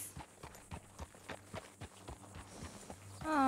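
Horse hooves clip-clop at a steady walking rhythm in Red Dead Redemption 2, about a dozen close, evenly spaced beats over a quiet background, then a voice cuts in at the end.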